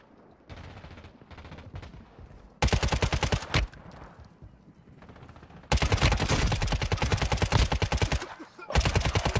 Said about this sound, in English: Bro, this SMG packs a punch.